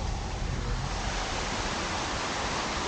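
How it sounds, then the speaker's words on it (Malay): Heavy rain pours down during a camping day trip at Dusun Haji Radi, a dense, unbroken roar of water, loud and constant throughout, with no voices. "Hujan lebat."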